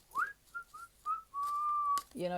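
Someone whistles a short, meandering tune with a few brief notes and one long held tone, close and fairly soft, with a little noise at the end.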